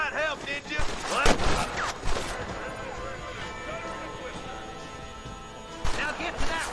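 Gunfire rings out in a Red Dead Redemption shootout, sharp cracks and volleys clustered at the start and again near the end, mixed with game voices and a ringing musical score.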